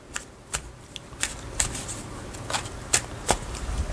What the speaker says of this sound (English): So we're still shuffling.